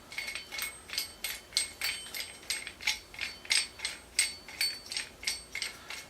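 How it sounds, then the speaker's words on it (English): Arctic Z2 Pro Gen 2 dual-monitor arm clamp being tightened hard onto a thin Varidesk Pro Plus desktop, giving a steady series of about fifteen close, crisp ratcheting clicks at an even rhythm, with no talking. "But because this isn't really thick, we're going to have to just tighten this a lot."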